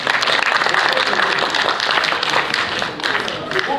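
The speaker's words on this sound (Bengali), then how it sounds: "একটু হাততালি দেবেন প্লিজ।" A crowd at the Saraswati Natyotsav theatre festival in Netaji Nagar breaks into continuous, close and fairly loud applause with brisk overlapping claps from start to finish.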